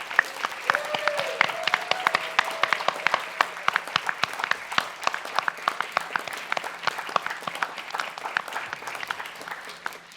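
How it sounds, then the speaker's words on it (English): An audience at a college scholar awards reception applauds, with dense, sustained clapping that stays even throughout and no talking. "let's give them a big round of applause"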